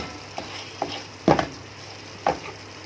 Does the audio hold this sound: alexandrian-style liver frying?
yes